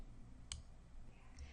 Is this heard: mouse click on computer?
yes